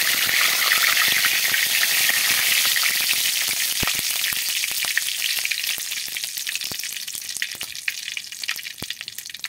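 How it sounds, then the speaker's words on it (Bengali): Whole cumin seeds and bay leaf hit hot oil, setting off an intense hissing sizzle that gradually settles into steady crackling, with a few sharp pops and light clicks near the pan. "ওই তেলেই আর একটু তেল দিয়েছি, তেলটা গরম হয়ে গেছে। দিয়ে দেবো গোটা কটা জিরে, দিয়ে দেবো তেজপাতা,"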